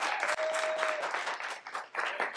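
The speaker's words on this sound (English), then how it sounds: "Round of applause." An audience at a poetry slam marking a 20th anniversary, held at a public library, breaks into brief applause, a dense patter of many hands clapping at moderate volume that dips near the end.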